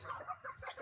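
Bhimavaram roosters and hens give several short clucks in quick uneven succession, faint and close, with no talking.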